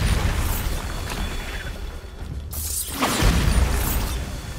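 A Bombarda blast spell in Hogwarts Legacy, heard as a sudden booming burst that hits after a short dip in the steady game ambience, followed by a rumbling tail.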